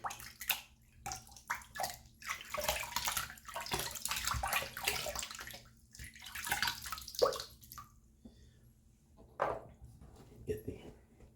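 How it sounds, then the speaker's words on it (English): Running water splashes and patters intermittently as an almond block is rinsed, close and fairly quiet, in uneven bursts with brief pauses and drips. "We'll give the almond block a rinse."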